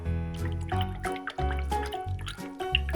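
A paintbrush is swished in a cup of water, making a close run of wet, bubbly plunks and drips in quick repeated strokes.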